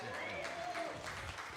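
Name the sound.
audience applause at live music show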